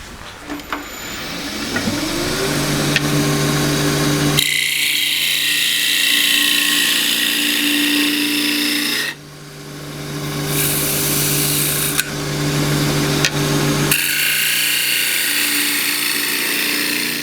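A lathe tool cuts a small natural-edge wooden bowl on a spinning lathe, with a steady motor hum and a bright, rough scraping whine that starts and stops as the tool touches and leaves the wood.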